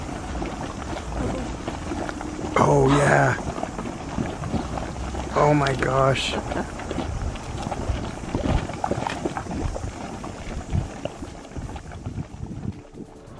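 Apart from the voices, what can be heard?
bubbling boiling mud pool at Rotorua geothermal park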